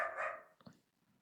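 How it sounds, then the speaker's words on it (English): Neighbors' dogs bark a couple of times in the distance, a brief loud burst at first, then a couple of fainter yips fading out. "apologies, neighbors got dogs."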